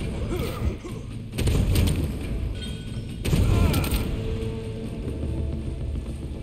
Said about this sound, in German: Die Schüsse sind ja echt OP.